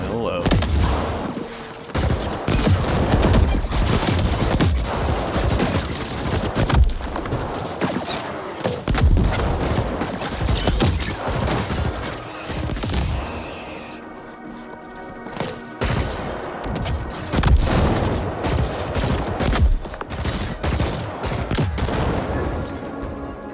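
Dense, sustained gunfire and booming weapon blasts from the sci-fi shooter The Ascent, with many overlapping shots over about twenty seconds and a brief lull midway.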